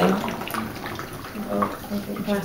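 Water carrying cellulose paper fibers drains through paper during library paper-repair work, giving a soft, continuous watery trickle and splashing at moderate level with small fluctuations.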